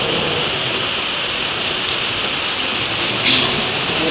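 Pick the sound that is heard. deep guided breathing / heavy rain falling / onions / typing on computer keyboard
heavy rain falling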